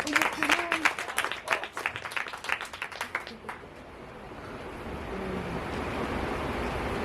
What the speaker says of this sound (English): Can you please clap hands for Unandi?